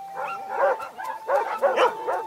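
Yapping cartoon dogs from the animated series Yakari bark and whimper in short bursts over a background music tone, fairly close and lively.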